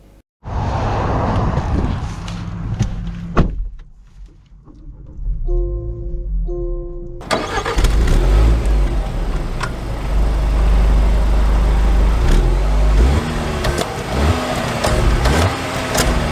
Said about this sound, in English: So setting off here in the Discovery Sport.